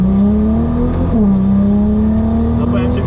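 A home-built 1200 HP Nissan GT-R Liberty Walk turbo engine revs up close, its loud droning note holding, dipping briefly, then climbing again, with turbo whine layered above.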